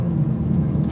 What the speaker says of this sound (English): Oh, listen to those pops and bangs.